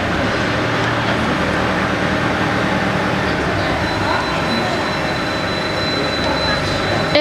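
A SANCO pipe tube end forming machine running in semi-automatic mode gives off a loud, steady mechanical roar that holds constant throughout, with a faint thin whine and a brief knock at the end.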